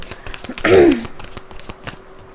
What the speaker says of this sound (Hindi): इन कार्ड्स को यहाँ शिफ्ट कर देते हैं।